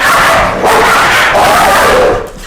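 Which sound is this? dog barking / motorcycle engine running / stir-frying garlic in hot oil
dog barking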